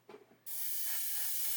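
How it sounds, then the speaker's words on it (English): Aerosol paint sprayed in a steady, continuous hiss, a very dry light coat laid over masking tape, close and alone after a brief shaky rustle at the start. "Again, spraying on this one, spraying away from the tape, not into it"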